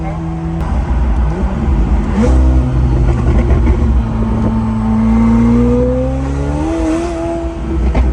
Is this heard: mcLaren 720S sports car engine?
yes